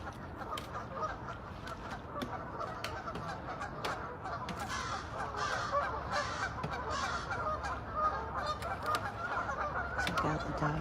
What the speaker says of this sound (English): Check out the ducks.